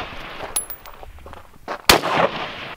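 A single sharp bolt-action rifle shot fired outdoors, loud and close, with a brief echoing tail, preceded by faint shuffling and clicks.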